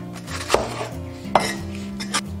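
A knife cuts into a length of scallion on a board with three sharp, distinct taps about three-quarters of a second apart, while a low background hum sits underneath and nobody speaks.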